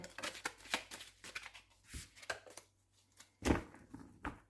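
An oracle card deck being cut and shuffled by hand, giving a run of soft, close paper riffles and taps with a few louder slaps, heard alone without talk.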